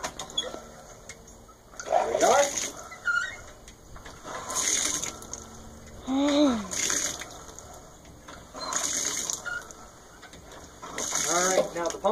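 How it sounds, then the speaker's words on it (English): A hand-operated guzzler pump is being primed, pushing water through in several rhythmic strokes. Each stroke gives a gushing, squeaky burst about every two seconds, close and moderately loud. "Getting the water coming through."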